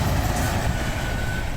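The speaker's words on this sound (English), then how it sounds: "There's a big truck coming." A big truck rumbles past at a roundabout, a steady loud low engine drone close by with no break, alone without talk.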